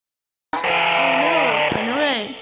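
A car in the Roblox Jailbreak video game drives with a loud, sustained engine tone that starts abruptly, holds steady and then shifts pitch near the end, heard alone and close.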